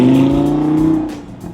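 A Lamborghini Huracan fitted with a Novitec exhaust system revs hard nearby, a loud rising engine roar that holds then tapers off in a brief burst.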